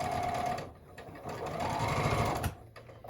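A sewing machine stitching a quilt block seam, a close, steady mechanical whirr and rapid needle chatter that slows briefly and then surges again.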